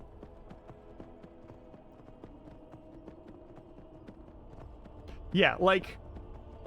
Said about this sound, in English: Now let's ride. Get on the horse.